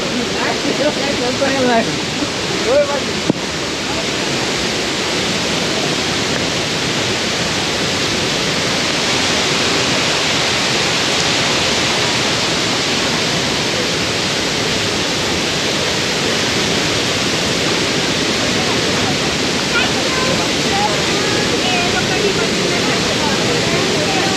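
Thoseghar Falls in monsoon, a waterfall giving a loud, unbroken roar of rushing water that fills the whole scene from start to finish, with faint voices barely audible beneath it.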